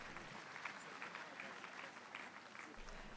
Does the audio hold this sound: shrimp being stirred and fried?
no